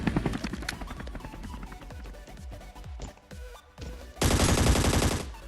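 Rapid bursts of automatic gunfire in the mobile battle royale game ScarFall 2.0 on the Mumbai map, quick repeated shots in clusters, then a loud steady helicopter rotor roar taking over at the end.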